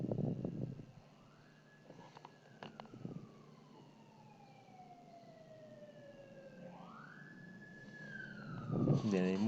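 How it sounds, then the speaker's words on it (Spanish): Ambulance and fire engine sirens wail outside a building, long rising and falling tones sweeping slowly through the clip at moderate distance, with brief bursts of nearby speech at the start and end. "hay mucha bulla afuera de ambulancia y parece de bomberos"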